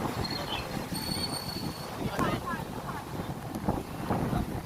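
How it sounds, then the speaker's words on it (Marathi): High ocean waves surge and splash against the seafront at Marine Drive, Mumbai, as a steady broad roar with gusty wind buffeting the microphone and a busy crowd around. "या बाजूला भरपूर उंच अशा लाटा उडत आहेत"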